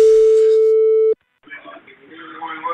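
A steady single-pitched phone ringback tone plays on an outgoing call for about a second, then cuts off; after a short silence, faint voices and line noise follow.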